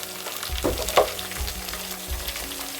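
Dried red chillies and green chillies frying in hot oil for sambar, a close sizzle with crackling pops and a few stirring scrapes over a few seconds.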